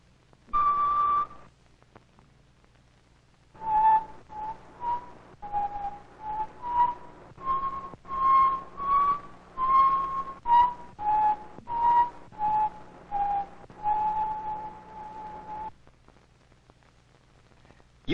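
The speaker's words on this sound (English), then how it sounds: "Now see what you can do with a row of test tubes filled with different amounts of water." A row of test tubes filled with different amounts of water being blown across, making a series of hollow, breathy flute-like tones: one long note, a pause, then a rhythmic run of about fifteen short notes at shifting pitches.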